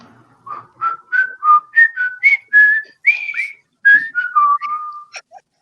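A lively whistled melody of short rising and falling notes, played clearly and close with a brief pause near the middle.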